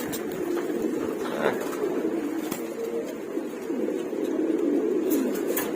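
Many pigeons coo steadily in a dense, continuous chorus at a pigeon sale, close and moderately loud, with a few sharp clicks and background rustle.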